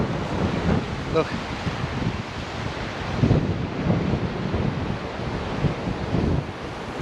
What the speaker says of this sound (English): just blowing a gale